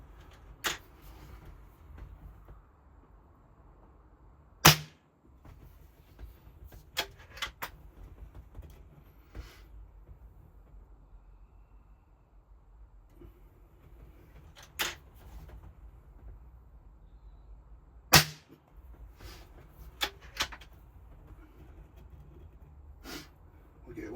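A 77-year-old BSA Cadet Major air rifle fires several sharp cracks, with two loud shots and a few quieter snaps spread across a quiet room background.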